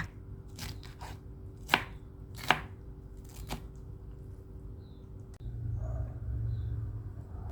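A knife chops pineapple on a cutting board for a pork-rib soup: a handful of sharp, separate chops close up over a low background rumble that grows louder near the end.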